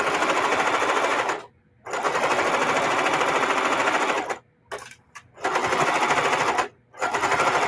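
A sewing machine stitching a fabric mug rug runs in loud, rapid, buzzing bursts, pausing briefly several times as the needle is stopped to turn corners.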